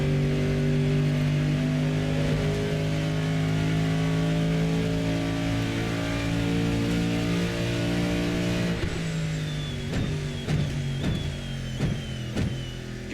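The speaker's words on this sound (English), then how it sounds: "It's a big American V8, of course, so it's got that low rumble to it." Big American V8 race car engine in the Assetto Corsa video game, a loud steady low rumble held for several seconds, then sharp revving and upshifts near the end.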